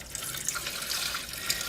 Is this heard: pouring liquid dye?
yes